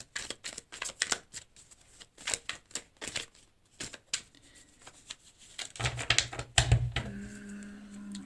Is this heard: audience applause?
no